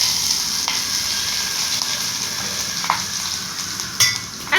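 Ginger and green chillies sizzle in hot tempering oil with asafoetida for Kathiyawadi kadhi, a steady close crackling hiss broken by a few sharp spatters and spoon clicks.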